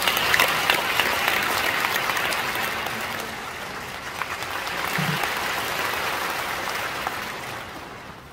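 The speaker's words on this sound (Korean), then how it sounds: "박수로 맞이하시겠습니다." An audience at the 26th Pentecostal World Conference in a church applauds to welcome a speaker, with sustained, loud, dense clapping that slowly fades toward the end.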